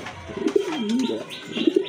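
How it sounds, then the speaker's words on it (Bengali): A big pink-beaked pigeon with black eyes, shown at a pigeon market, gives a close, clear cooing call of two rolling phrases with a short pause between them, heard alone without talk. "এটা কিন্তু আপনার গোলাপি ঠোঁটের কবুতর"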